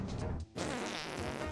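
A cartoonish fart sound effect from the video game BattleBlock Theater, a single sustained sputtering blast filling the whole moment with only a brief dip partway through, with no talking.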